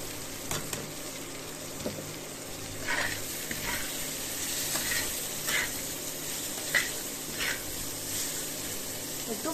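Green chili and turmeric fry in a pan, giving a moderate steady sizzle with a few sharper spits and stirring scrapes, heard close without talk.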